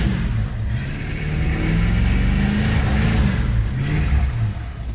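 A 1985 Dodge Ramcharger's 360 V8, running on gasoline after a bad-motor revival, revs loudly and continuously up close, its throttle rising and falling over a steady rumbling idle with no talk.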